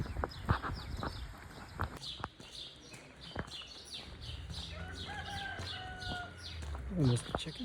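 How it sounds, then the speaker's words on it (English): Chickens cluck and chirp around a village farm near Elazig, with scattered close calls and short squawks over light outdoor background noise. "Some chickens for lunch."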